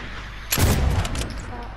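A single gunshot rings out in Fortnite during a trick shot attempt, a sharp loud burst with a short ringing tail over steady game background noise.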